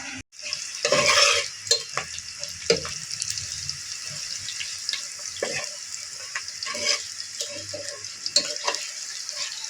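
Whole spices such as cloves fry in hot beef fat for khichuri, giving a continuous sizzling hiss broken by scraping and clattering stirring strokes, close and steady throughout.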